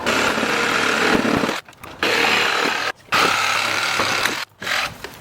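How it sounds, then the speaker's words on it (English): A Sawzall reciprocating saw cutting through 2x4 lumber on a wooden privacy fence, a loud, close, rasping buzz in three sustained cuts broken by short pauses, with no talk. "take your Sawzall and cut your 2x4s"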